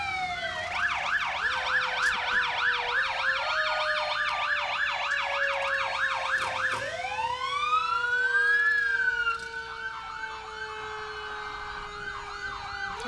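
A fire engine's siren, Engine 4, sounds during a Memorial Day parade, first a fast rhythmic yelp, then a long rising and falling wail, close and loud, with the siren winding down near the end.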